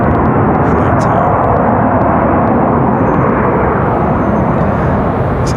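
Republic Airways jet rolling down the runway at Raleigh-Durham after landing, a loud, steady broadband roar of engines and rushing air that holds constant throughout, with faint talk beneath.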